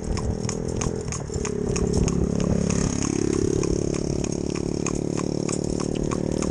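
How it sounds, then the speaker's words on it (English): A pop-pop motorbike engine putters steadily and grows louder as it approaches from behind, with a regular clopping beat of an Arab horse's hooves pulling a carriage throughout. "We've got a pop-pop motorbike coming up behind,"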